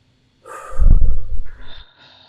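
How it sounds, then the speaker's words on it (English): A single deep, loud breath drawn in sharply through the nose and then let out, close up and alone, lasting about a second. "So, take a deep breath."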